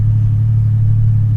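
A Trans Am race car engine on a road circuit, a steady loud low rumble held throughout with no voices over it.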